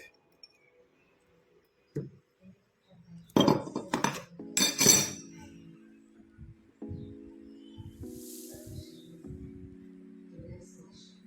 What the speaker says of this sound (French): Nous allons commencer par séparer les blancs des jaunes. On va utiliser un séparateur d'œufs.